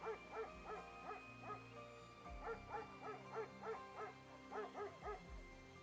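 A dog barking in the video game AFK Journey, repeated rhythmic bow-wow barks in short bursts over a steady game music bed, moderately loud throughout.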